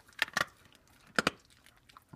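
A pet crunches a hard treat in two short pairs of sharp, crackling bites, close and faint, with quiet gaps between them and no talking.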